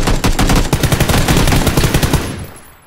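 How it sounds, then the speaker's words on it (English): Rapid automatic gunfire in the battle-royale game PUBG, a loud, dense burst of shots fired in quick succession for over two seconds before cutting off. "I'm shooting at him."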